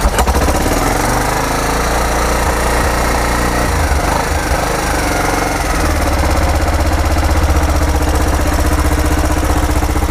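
A Kawasaki KLF300 4x4 ATV engine runs loud and close after sitting unused, with a steady, slightly rough idle that continues throughout without any talking.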